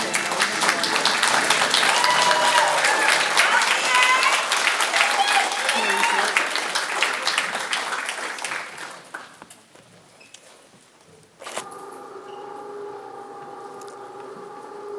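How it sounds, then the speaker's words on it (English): A large graduation-ceremony audience applauds practical nursing graduates with dense, steady clapping that fills the hall, then tapers off and gives way to a single speaking voice. "It's okay to clap for them."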